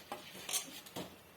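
A spoon scrapes and stirs soaked basmati rice into a simmering chana biryani masala in a pot, three or four short close clinks and scrapes spaced across a second, with no talk.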